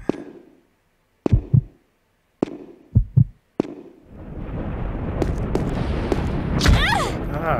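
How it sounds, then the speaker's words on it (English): A heartbeat from Resident Evil Code Veronica X thumps in low, paired beats separated by short silences, then gets buried under dense, loud game noise while a voice talks. "The heartbeat."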